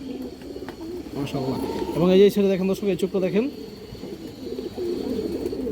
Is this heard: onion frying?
no